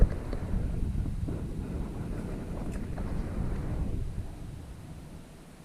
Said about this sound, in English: We're starting to get some wind too.